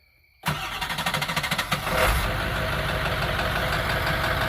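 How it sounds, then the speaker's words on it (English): A Ford F-550 rollback tow truck's engine is cranked by the starter in a rapid rhythmic chugging for over a second, then catches and settles into a loud, steady idle close by. "But go ahead and crank it up, Bray."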